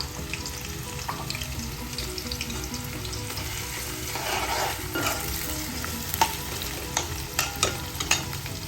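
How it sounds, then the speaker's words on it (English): Okra, also called ladyfinger or bhindi, frying in oil over a high flame for a vegan onion dish, a steady dense sizzle with occasional sharp pops and stirring clicks toward the end. "I put the other batch again into the oil for frying"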